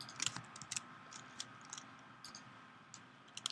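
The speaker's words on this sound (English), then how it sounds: "reduce the amount of keyboard noise" Soft, quick keystrokes tap on a computer keyboard in irregular clusters, quiet and close, with brief pauses between bursts of typing.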